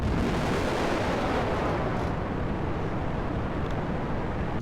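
Rocket launch in the video game Kerbal Space Program, its boosters detaching as it climbs: a loud, steady, dense roar with a deep rumble that holds without a break from start to finish.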